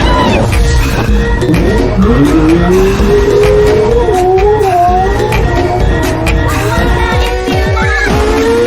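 Race cars speeding off on a mountain road toward a gas station, engines whining upward with sharp tire squeals and skids, loud and close, with a busy music or effects bed underneath.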